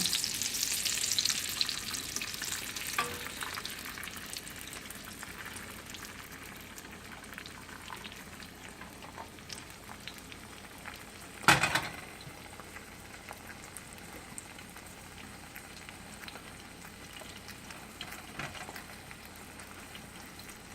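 A Filipino eggplant omelette made with egg browns in a pan, giving a soft, steady sizzle and bubbling at low volume, with one brief louder clatter partway through and no voices.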